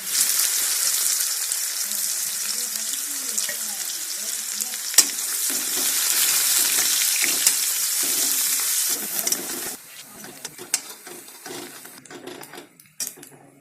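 Garlic and onion fry in a pan with a strong, steady sizzle close up, easing to a quieter crackle with a few scattered ticks and stirring scrapes toward the end.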